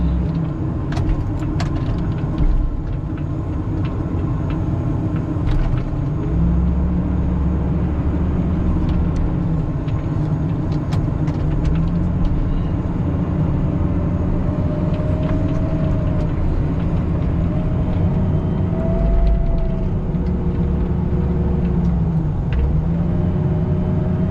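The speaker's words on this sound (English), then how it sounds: "It's no problem for the loader, it never is" A loader engine runs steadily while pushing deep snow, a continuous low drone with faint whining tones rising and falling over it.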